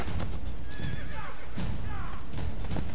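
A horse whinnies twice in quick succession, shrill and fairly close, over a busy background of hooves and game noise in Assassin's Creed Brotherhood.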